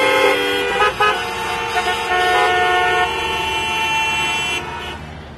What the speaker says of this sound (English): Here, people honk even when the signal is red.